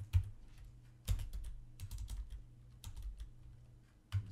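Keystrokes on a computer keyboard while typing a command into an SSH terminal, a quick run of close, crisp clicks with a few louder taps standing out, no voices.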